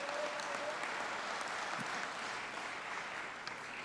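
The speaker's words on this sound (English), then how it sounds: "can you give a big round of applause to Consul General Dalela Ji" An audience at an outdoor International Day of Yoga event claps steadily, a sustained round of applause with a few faint voices mixed in, somewhat distant.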